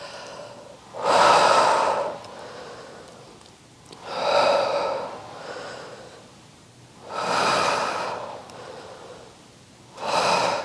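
Four strong, rhythmic breaths during a Pilates reformer workout, each a forceful, breathy exhale or inhale spaced about three seconds apart, close to the microphone with quiet gaps between.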